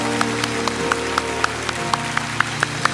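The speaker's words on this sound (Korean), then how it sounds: "우선 우레와 같은 박수로 저들을 축복하기 원합니다." Korean church congregation applauds the young adults standing in the service: a steady wash of clapping with sharper, evenly spaced claps standing out on a low background hum, no voices.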